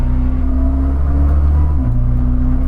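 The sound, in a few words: Koenigsegg CC850 hypercar engine gear shift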